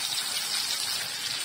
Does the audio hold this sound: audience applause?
no